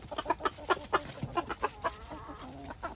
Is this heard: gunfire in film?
no